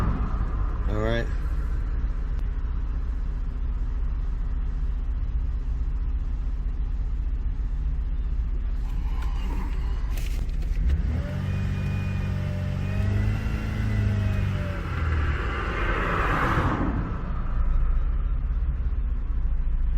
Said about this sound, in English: let's start the van, the SUV, car, whatever